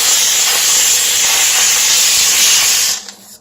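A HomeRight SteamMachine steam cleaner hisses loudly and steadily up close while cleaning baked-on grease, then the jet cuts off abruptly near the end, leaving a faint low hum.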